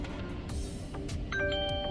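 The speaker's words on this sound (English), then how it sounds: "You've got a text message." A car's text message notification chime sounds as a short series of clear electronic tones near the end, faint over quiet cabin noise.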